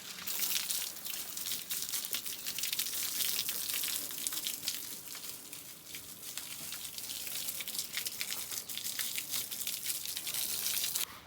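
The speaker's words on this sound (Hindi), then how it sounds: "तो हम दे रहे हैं पानी दीवारों को।" Water from a hose sprays against the walls of a house under construction, a steady hissing splash that continues throughout at close range with small fluctuations.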